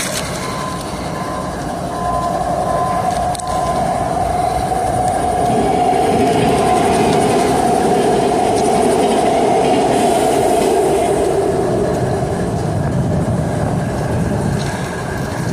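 Autorack freight train with a boxcar attached rolls past a junction, a loud, steady rumble of wheels and cars going on throughout, with some faint squeal now and then.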